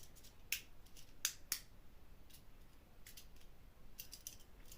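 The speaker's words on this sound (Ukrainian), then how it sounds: "Так, беру канцелярський ножик." A utility knife cuts into cardboard, giving a few short, crisp scratching strokes close by against a quiet background.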